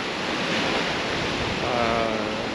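Strong Bora wind and waves around a sailing boat, a steady broadband roar of wind and rushing water with buffeting on the microphone, constant throughout.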